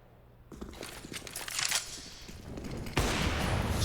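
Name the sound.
gunshot fired through a wall in the video game CS:GO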